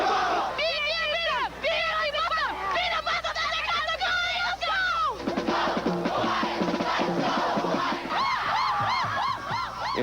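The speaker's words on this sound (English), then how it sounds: "Perhaps the most creative type of cheer is the free form" Fans at a 1984 high school basketball semifinal between Johnson and Bloomington Kennedy cheer and whoop loudly, a dense crowd roar with shrill individual yells rising over the babble throughout.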